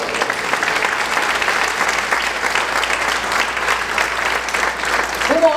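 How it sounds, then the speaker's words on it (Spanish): Sustained congregation applause fills a church service led by a pastora, a dense, steady wash of clapping that stays loud and even from start to finish. "Dale el aplauso"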